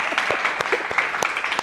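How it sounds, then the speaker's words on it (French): A studio audience on a French game show applauds a performer, a brief, even burst of many hands clapping at moderate loudness. "je vous contente de bien admirer et d'applaudir à David Kramer"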